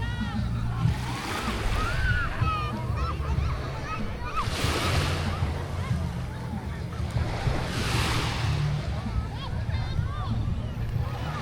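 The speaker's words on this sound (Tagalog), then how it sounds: "Ayan, moderate lang yung alon." Steady rushing surf of moderate ocean waves at Calayo beach, swelling and washing in twice, with wind buffeting the microphone and a voice faintly underneath.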